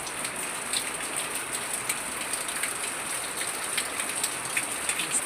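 Steady rain falls on surfaces nearby, a dense patter with scattered louder drops ticking through it, continuous and unaccompanied by voices.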